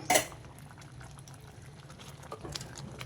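A pot of moong dal lentils with tomatoes simmers quietly, a soft steady bubbling with occasional pops and a brief clatter at the start, no voices.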